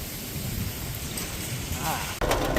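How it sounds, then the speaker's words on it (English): Hail and rain pelting a truck in a strong storm, a dense steady drumming and hiss throughout, with a sharp knock near the end followed by brighter, harder clattering. "So we're getting hit with hail now."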